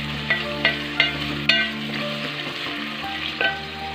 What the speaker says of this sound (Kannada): ನೋಡಿ, ನೀಟಾಗಿ ಇದನ್ನ ಫ್ರೈ ಮಾಡ್ಕೊಬೇಕು.